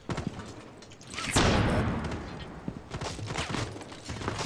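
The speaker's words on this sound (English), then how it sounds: "Is that you shooting in or them?" Gunfire from Rainbow Six Siege sounds in quick bursts with thuds and clatter, plus one loud sweeping blast and hiss, under faint background chatter.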